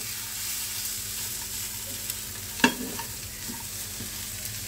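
Crispy corn chaat with lemon juice and coriander is stirred in a pan with the gas off, giving a soft, steady rustling hiss and one sharp clack of the utensil partway through, no voices.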